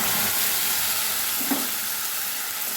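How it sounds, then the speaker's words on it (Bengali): Tempering of cinnamon, cloves and a bay leaf frying in hot oil for an egg omelette curry, giving a dense, even sizzle close up and unbroken, with one small bubble pop partway through and no speech. "ফোড়নটা ভেজে নেব"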